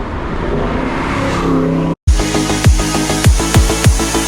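Sports cars on a route through the Dutch hills in Limburg rush past one after another, a loud engine drone cut off abruptly, then several sharp close-by whooshes in quick succession, with no voices.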